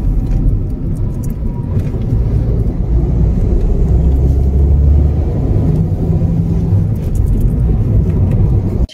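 A car drives along Hill Cart Road out of Siliguri with a steady, loud rumble of engine and road noise, plus faint passing traffic, and no talk.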